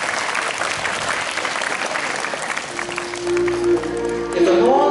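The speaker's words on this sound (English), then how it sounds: "Please welcome him with a huge round of applause" An audience at a school farewell function for the principal and manager of St. Paul's School, Udaipur, gives sustained, dense applause; near the end, tonal sounds rise beneath the clapping.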